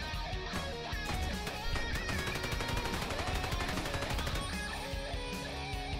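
Dense, continuous gunfire from the top-down shooter roguelike Repetendium, rapid overlapping shots over busy game music and effects with no talking.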